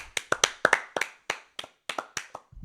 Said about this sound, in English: Clap them together for the Hawks.